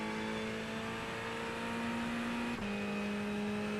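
Steady, continuous drone of a Ferrari 488 Evo race car engine in the iRacing simulator, holding a sustained tone with a brief shift or gear change partway through, loud and unbroken throughout.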